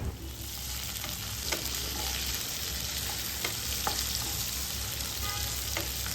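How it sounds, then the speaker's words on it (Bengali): Oil sizzles steadily in a pan as cut new potatoes fry, with a few faint clicks and scrapes of stirring; no voices. "দুই থেকে তিন মিনিট আলুটাকে ভাজার পর"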